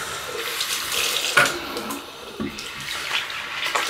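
Tap water runs steadily into a sink, a continuous close hiss and splash with a few brief clinks over it.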